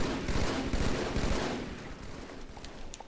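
Battle rifle fire in Halo 2 Team Slayer on the Lockout map, a dense, loud burst of overlapping gunshots that gradually thins and fades.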